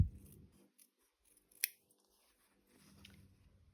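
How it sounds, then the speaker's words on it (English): Sharp scissors trim the fabric corners of a stitched shirt cuff, a few close, crisp snips with one distinct cut standing out, and no talking. "I'm just going to trim the corners and turn it the right way out."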